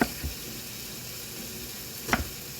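Sliced peppers sizzling quietly in a skillet, with a soft steady fry and a couple of brief utensil clatters, one near the start and a louder one near the end.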